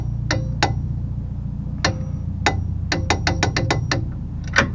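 A torque wrench set to about 60 foot-pounds clicks while tightening small ball joint bolts on a 2002 Dodge Ram 2500 2WD, sharp metallic clicks, single at first then a quick run of them, over a steady low hum.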